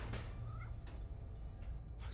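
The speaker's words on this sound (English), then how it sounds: "Just need to find Tails' cat." A cat meows a few times in the Spider-Man: Miles Morales video game, the short calls sitting over a steady low game hum with faint voices.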